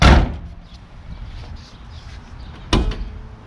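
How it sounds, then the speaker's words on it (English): Trunk of a 1990 Toyota Supra Mark III opening with a loud thud at the start, then quiet, then a second sharp clunk of the lid near the end. "And could you open the trunk?"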